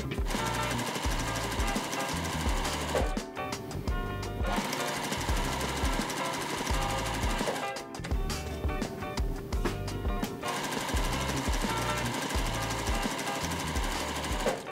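A sewing machine stitches quilt patches with a rapid, steady mechanical hammering, close and loud, running in long bursts broken by two brief pauses, no voices.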